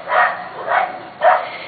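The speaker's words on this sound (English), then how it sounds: "they're all barking" Several corgis barking outdoors, three loud bursts of barking about half a second apart, close by and with no talk over them.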